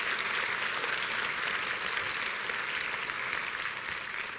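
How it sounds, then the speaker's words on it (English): Steady, dense applause from an awards luncheon audience at a Los Angeles County quality and productivity awards event, a sustained wash of clapping throughout with no voices. "Give them your greatest applause."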